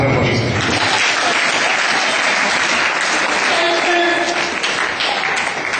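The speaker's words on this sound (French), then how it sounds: "Acclamons très fort Jésus" A church congregation applauds loudly during a French-language sermon, a dense, sustained wall of clapping that lasts throughout, with crowd voices mixed in.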